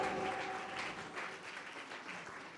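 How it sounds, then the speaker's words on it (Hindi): A congregation at a Hindi church sermon claps together in a faint, distant burst of applause, with a brief sustained tone at the start. "सभी ताली बजाइए।"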